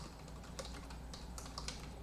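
Quick, irregular keystrokes on a computer keyboard over a steady low hum, light taps arriving in small clusters at close range with no voices.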